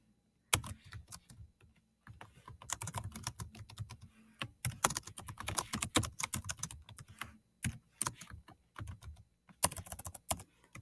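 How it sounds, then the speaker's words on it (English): Quick bursts of typing on a computer keyboard, close and crisp, with short pauses between runs of keystrokes and no talking. "and I'm going to write to Alyssa"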